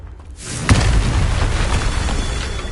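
Confringo blasting spell explodes in the Hogwarts Legacy game, a single loud booming blast after a brief quiet onset, followed by a sustained rumbling, crackling roar that fades only slightly.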